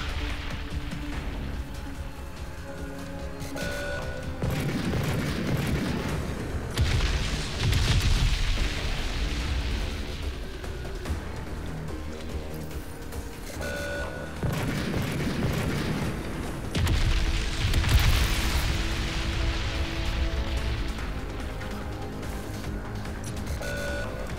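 Battle din from the Crysis 3 shooter game: repeated heavy booming blasts and rumbling explosions in waves, with mechanical clanks and beeping tones over a constant low roar.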